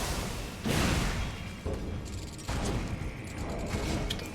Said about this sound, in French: il a vraiment des tirs auto-guidés dégueulasses